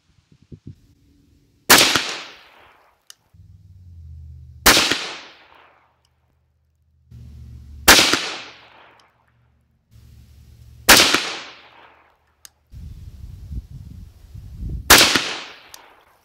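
A 6.5 Grendel rifle fires 130gr Nosler RDF bullets, five sharp, loud shots spaced a few seconds apart, each with a quick decaying crack, separated by quiet low-level handling noise.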